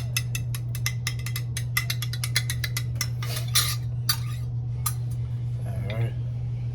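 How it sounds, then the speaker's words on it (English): A spoon clinks and scrapes rhythmically against a pot while stirring Alfredo sauce, rapid repeated metallic taps over a steady low hum, with a brief swishing stretch near the end. "classic Alfredo ragu. I shook it up. I'm gonna stir it."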